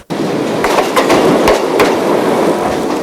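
A passenger train rolls by close and loud, its wheels clattering rhythmically over the rails in a steady rumble that lasts about three seconds.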